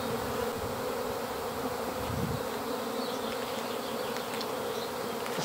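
A swarm of honeybees crawls up a board into a hive, giving a steady, close, continuous buzzing hum that holds at an even level throughout with no talking.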